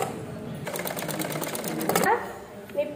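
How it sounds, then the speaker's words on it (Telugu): A sewing machine stitches across the shoulder of a kids' langa jacket in a short, rapid mechanical burst of under two seconds, close by, with a person talking around it. "సో ఇప్పుడు షోల్డర్ మీద ఒక స్టిచ్ వేసుకోవాలి."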